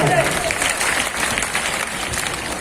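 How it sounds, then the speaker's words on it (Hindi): Loud applause from a school audience at Swami Vivekanand Inter College after the director's speech, a continuous crowd clapping texture with voices mixed in beneath it. "जोरदार तालियों से स्वागत करेंगे एक बार फिर से।"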